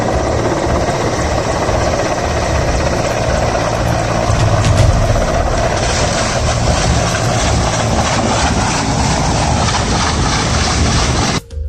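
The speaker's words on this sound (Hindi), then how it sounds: "यहाँ इस हेलीकॉप्टर की इमरजेंसी लैंडिंग की प्रैक्टिस की जा रही है।" A helicopter practising an emergency landing, its engine and rotors roaring loudly and continuously, a steady heavy drone with no pauses throughout.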